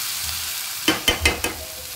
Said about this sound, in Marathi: लोखंडाच्या कढईमध्ये लवकर भाजी होते आणि व्यवस्थित फ्राय पण होते